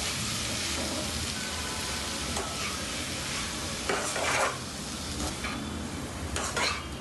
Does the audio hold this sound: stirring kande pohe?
yes